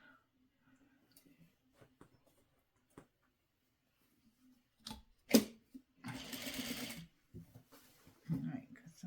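A domestic sewing machine stitches quilt pieces from a Christmas tree quilt kit in a short, close burst of about a second after near silence, followed by faint handling sounds and a person talking.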